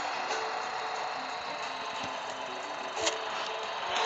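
A tractor engine idles as it parks in Farming Simulator 14, a steady, moderately quiet mechanical drone with faint periodic ticks and a slight swell near the end.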